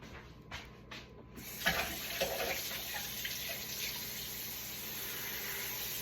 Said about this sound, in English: You put just enough water in the pot just to cover the skin.